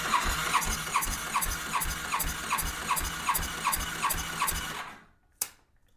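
A 2007 Yamaha FJR1300 motorcycle engine cranks on the starter with the throttle held wide open during a compression test on cylinder four, a near, even chugging of about a dozen pulses that cuts off, followed by a single sharp click.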